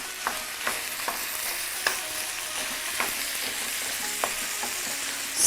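Ground meat and onion sautéing in a pan, a steady close sizzle with periodic sharp scrapes of a spoon stirring every second or so; no talking.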